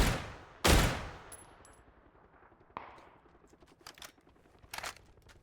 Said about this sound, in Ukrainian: Як то сильно він стріляє.